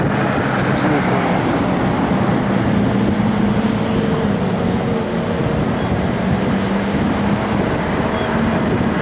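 Diesel O-Bahn buses idle at the corner of Hackney Road and Botanic Road in Adelaide, a steady loud rumble of engines and street traffic that holds throughout with no break.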